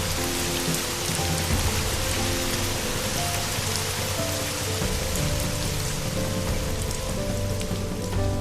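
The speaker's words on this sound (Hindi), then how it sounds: "और तभी अचानक बारिश शुरू हो गई।" Rain falls steadily in a dense, even hiss of drops pattering on surfaces, with faint background tones and no voices.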